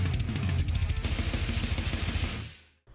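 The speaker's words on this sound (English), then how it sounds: "I have for you the Call of Duty Black Ops 3 rank up sound effect" Call of Duty Black Ops 3 video game rank-up sound effect: a short burst of rapid pulsing electronic tones over a low rumble, fading out after about two and a half seconds, heard alone.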